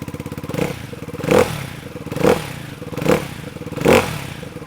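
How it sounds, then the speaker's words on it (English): A Ducati Hypermotard 698 single-cylinder motorcycle with its stock exhaust idles nearby, a steady low chugging interrupted by four evenly spaced throttle blips that bark briefly and fall back. "get some stock sounds from the stock exhaust as a comparison"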